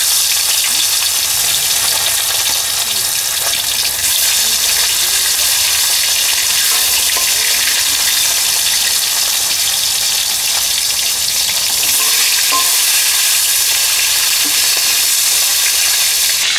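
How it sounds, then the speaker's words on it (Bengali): Foli fish fries in hot oil in a pan, giving a steady, loud, close sizzle and crackle that runs unbroken throughout with no voices. "তেল গরম হয়ে গেছে, মাছ ভেজে নিচ্ছি।"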